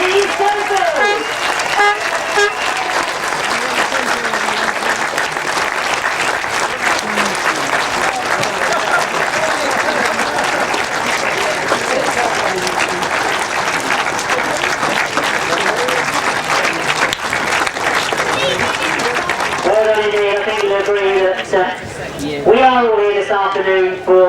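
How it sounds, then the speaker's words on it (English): A large outdoor crowd at a grasstrack racing testimonial award claps in sustained applause, with car horns tooting among it; a voice speaks over a public address near the end. "I want a very big round of applause."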